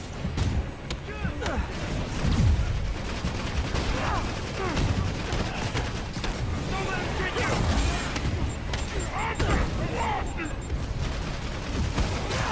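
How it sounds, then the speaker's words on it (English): Gunfire and bursts of shooting at a rocket in Marvel's Spider-Man Remastered, Hammerhead DLC, a dense, continuous barrage of shots and impacts throughout, with talk over the top. "I think now that they're shooting at the rocket"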